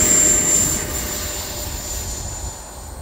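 An E-flite 80mm EDF F-4 Phantom model jet takes off, its ducted-fan whine a steady, loud rush that holds throughout and eases slightly as the plane climbs away, with no talk over it.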